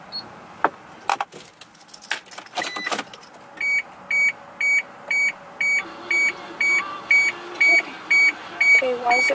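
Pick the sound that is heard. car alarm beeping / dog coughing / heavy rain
car alarm beeping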